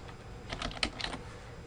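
Quick bursts of typing on a computer keyboard while a file name is entered during a 3D-scan export, a short run of light, close key clicks with no voices.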